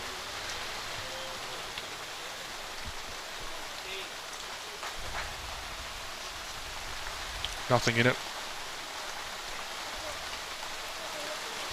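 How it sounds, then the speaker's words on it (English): Heavy rain pours steadily over an outdoor lawn bowls green during a Metro Premier Division match, a dense hiss holding throughout, with a brief thump and clatter near the end. "it is belting down rain"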